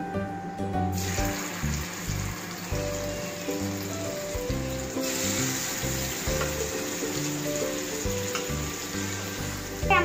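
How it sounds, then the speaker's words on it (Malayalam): Chicken pieces for a samosa filling drop into hot oil and fry with a steady, dense sizzling hiss that runs continuously at close range, with a faint clatter near the end and no talk. "അപ്പൊ എണ്ണ ഒക്കെ ചൂടായിട്ട് വന്നിട്ടുണ്ട്. ഇപ്പൊ നമ്മൾ ഇത് ഇടാൻ പോവുകയാണ്."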